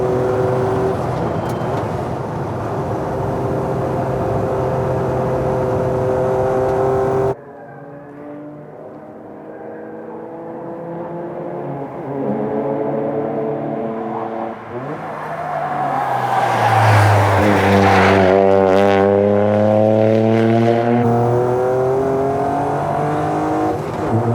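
Toyota Corolla race car running a hydrogen engine, loud and close, with strong rising and falling engine tones as it accelerates, shifts and revs, briefly dropping off before surging again.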